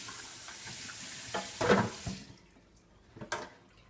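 Soaked nuts are rinsed in a small sieve under running water at a kitchen sink, with a brief splashing surge in the middle and a shorter burst near the end against a quiet background.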